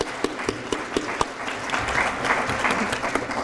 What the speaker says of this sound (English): when you clap near the mic, you can hear it